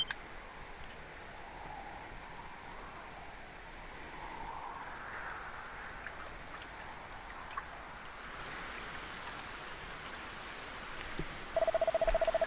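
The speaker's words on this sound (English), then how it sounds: "Lo, the rain doth fall, and soon enough the sun too shall fade." Steady rain falls in Dragon Quest 1 HD-2D as a soft, even hiss that runs the whole time, and a brief electronic tone enters at the very end.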